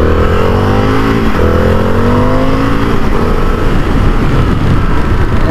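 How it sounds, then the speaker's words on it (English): An Indian FTR 1200 motorcycle's V-twin engine revs loudly and close, its gruff growl climbing in pitch through repeated rising pulls and holding a heavy steady drone; no talking. "that V-twin is just a lot more low in torque, a lot gruntier"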